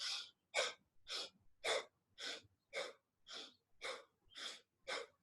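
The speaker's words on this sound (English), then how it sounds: "it's basically a cycle of 30 breaths, and they're controlled hyperventilation" Controlled hyperventilation breathing in and out through the mouth, about ten strong, evenly paced breaths heard close and alone.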